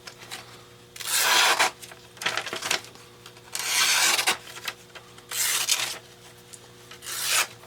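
EDC knife blade pulled through a sharpener, five or six loud rasping strokes in an uneven rhythm with short pauses between them, close up and with no talk.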